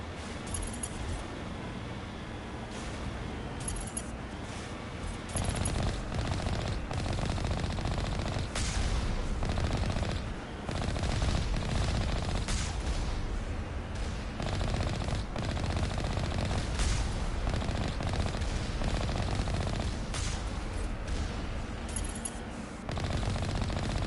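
Rapid weapon fire and rocket launches in the sci-fi shooter Mass Effect Legendary Edition, with dense, continuous bursts of booming and crackling combat noise that sound loud and close, with no talking.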